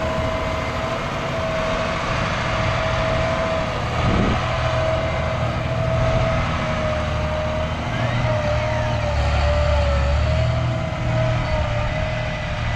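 A tractor engine drones steadily and close while the plow is rolled over, a constant tonal hum running beneath faint mechanical clunks, with no break across the stretch.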